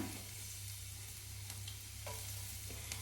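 Finely chopped garlic sizzles in hot oil over a high flame, a faint, even frying hiss with a few light clicks and no talking.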